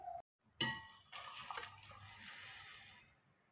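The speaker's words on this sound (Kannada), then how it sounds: "ಆ ನೀರು ಫುಲ್ಲು ಹಾಗೆ ಹಾಕೋತೀನಿ" Water from boiling ash gourd is poured into a cooking pot, starting with a metallic clang and then a soft, steady trickle and splash that fades gradually in a quiet kitchen.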